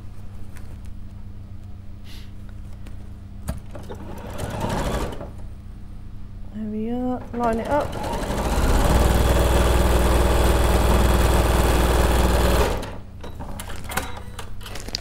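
A domestic sewing machine runs in one long, loud, steady burst of stitching, with a brief whir just before. A voice speaks quietly before and after the run.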